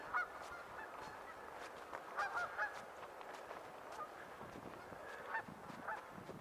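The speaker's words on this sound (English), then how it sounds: "And look at all the geese." Geese honk at a frozen pond in the snow, a scattered flock giving repeated nasal calls from a short distance over a faint outdoor hush.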